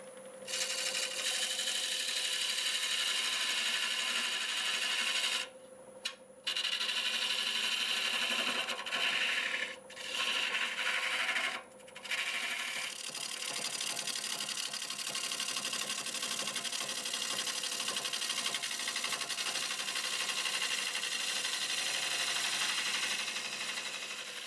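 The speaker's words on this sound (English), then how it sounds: "I'm going to switch to this 1/4 inch gouge, 3/8 shaft, 1/4 inch flute" A 1/4 inch gouge with a 3/8 shaft and 1/4 inch flute cuts wood on a spinning lathe, giving a steady, loud scraping rasp with a machine hum beneath it and a few brief breaks where the tool lifts off.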